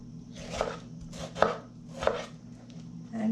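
A knife roughly chops tomatoes on a cutting board: several crisp, evenly spaced thuds ring out close and clear, with a quiet hum underneath and no talking.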